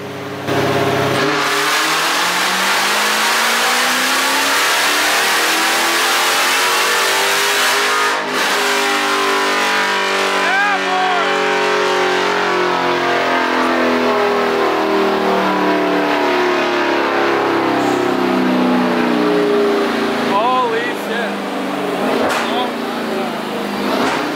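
A Dodge Hellcat on a dyno, running on drag radials, revs hard and long, the engine note climbing steadily through the gears in a loud, continuous roar with a brief drop near the start.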